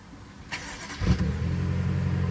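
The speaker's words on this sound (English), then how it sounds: "So the car was started already before I started the inspection" A 2016 BMW M5 engine idles nearby after a brief sharp noise, settling into a steady, even low hum that continues to the end.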